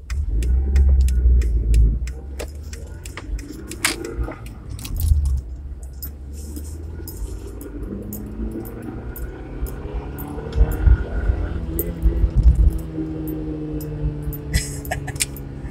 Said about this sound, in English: A little bit of tire chirp.